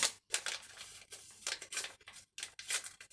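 A dry yeast packet is snipped and torn open in a kitchen, giving several short crisp bursts of paper and foil crinkling with brief pauses between, close and fairly quiet.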